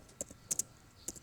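Computer keyboard keys are tapped to enter a film code, a few quiet, crisp clicks in small clusters with brief gaps between them and no talking.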